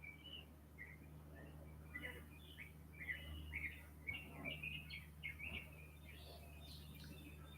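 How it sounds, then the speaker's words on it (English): Birds chirp outdoors around a porch, short high tweets and trills repeating irregularly at moderate distance over a low steady hum, with no talking. "the birds are doing their thing"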